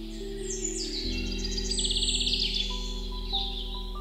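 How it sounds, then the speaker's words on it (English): A sparrow chirps in a quick run of bright, high tweets and trills, close and clear over a steady low musical bed, with no voices. "A sparrow lays small eggs in its nest."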